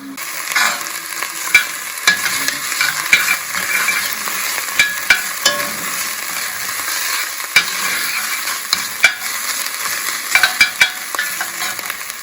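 Onions fry over high heat with a loud, continuous sizzle close by. Sharp clacks and scrapes of the stirring utensil against the pan come at intervals, with no one speaking.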